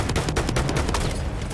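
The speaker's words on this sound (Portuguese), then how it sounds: "Olha lá, lá, tão atirando." Battlefield 1 battle gunfire, a steady rattle of rapid automatic shots mixed with distant explosions, loud and continuous throughout without voices.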